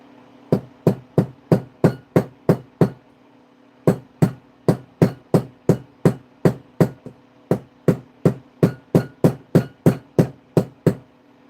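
A hammer peening a leather project on a hard surface, crisp sharp taps in fast even bursts of about seven to eight strikes separated by short pauses, close and clear with no voices.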